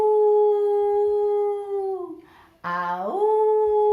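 A voice imitates a wolf howl: a long, steady sung tone that slides down and fades, then a sharp restart rising into a second sustained howl, loud and close, with no other talk.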